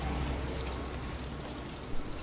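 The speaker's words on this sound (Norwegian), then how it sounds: "Men nå regner det." Steady rain falls on an outdoor street scene, a dense continuous hiss of drops with no talking, close and fairly loud throughout.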